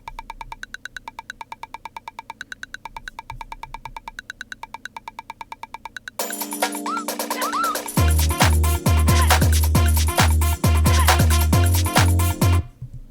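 A wood block sample pulled from Splice, processed with EQ and made mono, plays a quick, regular run of hollow knocks that mimics cartoon running, first alone and then tucked inside a full beat with deep bass hits.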